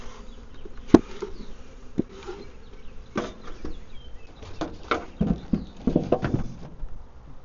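Honey bees hum around an open hive during an inspection on a Wisconsin apiary, a steady insect drone under scattered knocks and handling clatter from frames and equipment.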